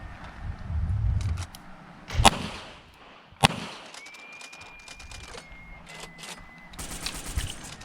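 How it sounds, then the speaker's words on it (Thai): Two sharp, loud cracks from a Smith & Wesson revolver fired from the hip in cowboy style at a shooting range, spaced about a second apart, followed by a faint high ringing tone. "ให้ยิงดับเบิล เกือบไปแล้ว เอาใหม่นะครับผม ยิงดับเบิลเท่านั้นนะครับ เริ่มครับ"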